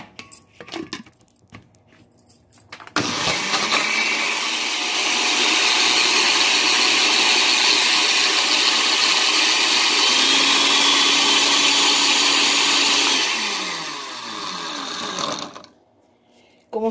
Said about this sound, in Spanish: La voy a licuar.